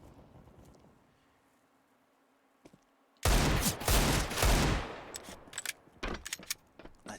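Counter-Strike gunfire erupts suddenly after a near-silent lull, a loud burst of shots followed by scattered sharp single cracks including a headshot, with a dull background hum before the action.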